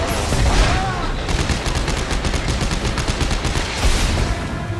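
Rapid automatic gunfire in Dead Space 3 co-op play, a dense rattle of shots in quick succession with heavier bursts at the start and end, under excited player talk.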